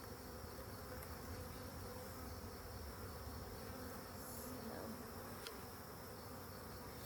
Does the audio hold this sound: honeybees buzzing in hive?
yes